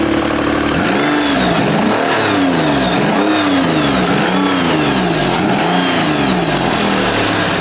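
A car engine revs up and down in repeated surges, loud and close, with a harsh blatting rasp from a leaky exhaust.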